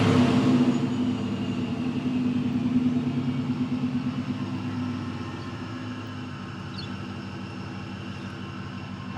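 A supercharged BMW E39 M5 engine idles steadily at close range, a continuous low harmonic rumble with a lean-running condition, holding fairly constant and easing slightly in loudness toward the end, with no talking.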